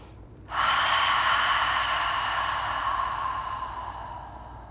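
A deep cleansing breath during a yoga session, one long audible exhale that starts abruptly and slowly fades over several seconds, close and breathy with no talking.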